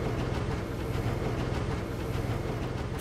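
An animated train rolls along with a continuous low rumble and faint rhythmic clatter, heard steadily and fairly loud with no voices over it.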